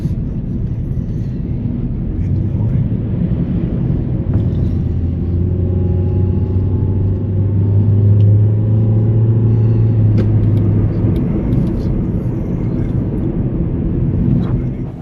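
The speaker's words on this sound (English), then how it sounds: "I'm about to drive through the Taroko Gorge to the seaside town of Hehuanshan" A car drives through Taroko Gorge in Taiwan, a steady low road rumble and engine drone heard from inside, continuous and moderately loud with a faint rise and fall in pitch.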